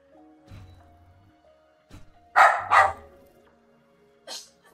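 A dog barks during a livestream, two loud close barks in quick succession, then a third after a pause, with low background sound between.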